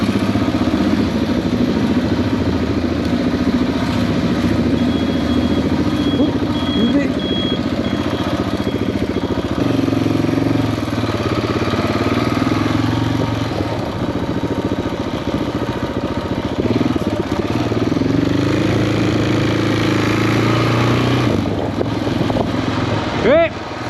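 A motorcycle riding through the city streets of Buenos Aires, its engine droning steadily and loudly throughout with shifting pitch, heavy wind buffeting and road noise, plus a voice talking over it.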